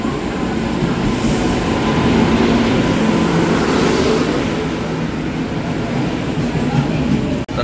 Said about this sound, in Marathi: फायनली आपली ट्रेन आली